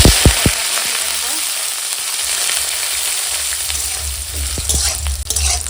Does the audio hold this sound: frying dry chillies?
yes